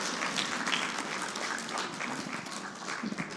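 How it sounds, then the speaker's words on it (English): A church fellowship audience claps: a full, sustained burst of applause from a sizeable crowd, with a faint murmur of voices underneath. "so clap if you want."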